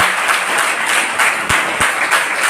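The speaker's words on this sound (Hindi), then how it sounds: "आप लोग ताली बजा के उनका स्वागत करिए" An audience claps steadily throughout at a national seminar at Mahadev PG College in Varanasi, a dense, even applause from a hall full of people.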